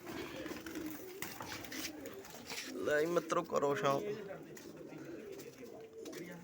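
Pigeons gathered together in a loft keep up low, throaty cooing behind men chatting close by, growing louder partway through.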